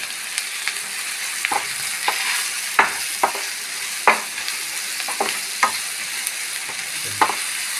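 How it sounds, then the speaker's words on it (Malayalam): Finely chopped ingredients for a green peas stir-fry sizzle steadily in a pan, with a spoon scraping and tapping at irregular moments over the continuous frying hiss. No one speaks. "ഇതൊക്കെ ഒന്ന് ഫ്രൈ ആവണം"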